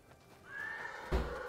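Horse neighing in the video game Ghost of Tsushima: a single rising whinny, clear and moderately close, followed by a soft hoof thud, with no speech.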